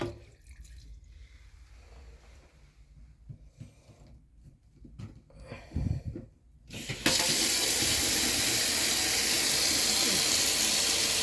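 Water gushes from a tap after some quiet handling and clunks, then runs loud and steady for several seconds.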